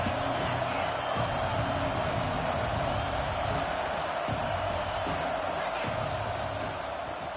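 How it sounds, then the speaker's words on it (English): A stadium crowd at a football game roars in a continuous, dense wall of cheering and shouting, with occasional thumps and whoops beneath it, distant and steady throughout. "This crowd ready to make its presence known"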